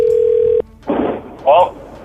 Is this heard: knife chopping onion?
no